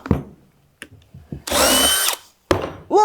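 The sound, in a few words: power drill with spade bit drilling through cabinet wood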